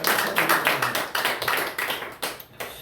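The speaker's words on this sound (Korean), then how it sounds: "박수해 주세요." A small church congregation claps together in a quick, fairly regular rhythm, a couple dozen close, distinct hand claps over a few seconds with no voices.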